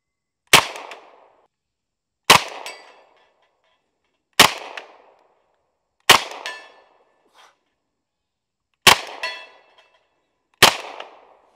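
An M1 Thompson submachine gun fires six separate single shots at targets outdoors, each a sharp crack with a short metallic ring, spaced about two seconds apart with silence in between.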